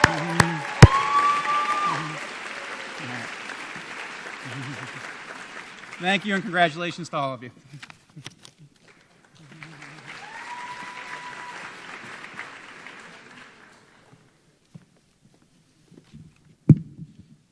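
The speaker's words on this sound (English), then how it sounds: "So, a round of applause." Applause from an audience at a high school honors convocation, steady clapping in the first seconds, then renewed and fading, with a speaker talking over and between it.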